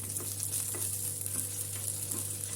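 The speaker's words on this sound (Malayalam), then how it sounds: "വെള്ളം നല്ലപോലെ കളഞ്ഞ ശേഷം നമുക്കിതൊന്ന് വറുത്തെടുക്കാം." Drained biryani rice for chicken biryani frying in hot ghee in a pan, with a steady close sizzle and soft scraping stirs, alone and fairly quiet.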